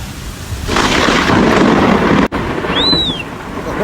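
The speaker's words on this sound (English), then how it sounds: "I love a good Texas storm." A Texas thunderstorm brings heavy rain and a long, loud rumble of thunder that swells and then holds steady, with a brief dropout partway through.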